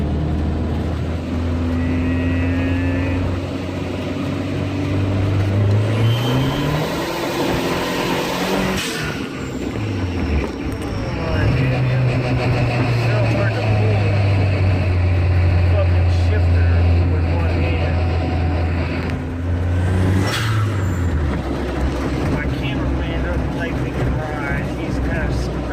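Turbocharged car accelerating hard in third gear with a raised-boost wastegate spring, the engine tone climbing steadily and loudly with a brief dip at a shift before rising again, while a person talks over it.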